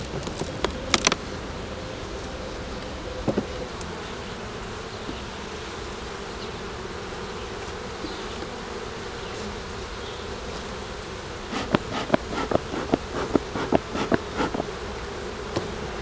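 Honeybees buzz steadily around a hive during a swarm inspection in Quebec, a continuous drone with a few sharp taps and knocks near the start and end.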